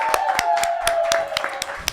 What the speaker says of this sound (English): Everyone claps so that she has to come up.